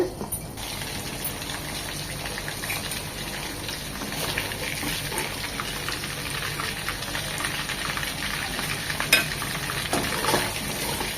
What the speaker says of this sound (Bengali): খুব বেশি কড়া করে ভাজবো না এ পিট টু পিট এক মিনিট এক মিনিট করে ভেজে নেব যেহেতু পাবদা মাছ খুবই ছিটে